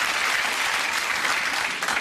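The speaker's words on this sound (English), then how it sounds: "I don't know what they're clapping now." A TV studio audience on The Graham Norton Show claps steadily: an even wash of many hands, moderately loud and unbroken, with no talk over it.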